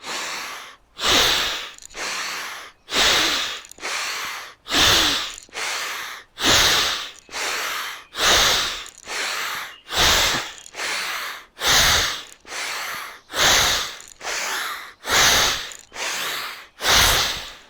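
Fast rhythmic breathwork breathing in the Energy Awakening technique, about sixteen forceful broadband inhale-exhale bursts evenly paced under a second apart, loud and close with no talking.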